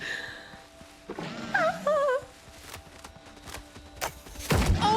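A boar charges in the video game Windrose: heavy thumps and thuds of its rush, with a brief squealing cry in the middle and more impacts toward the end.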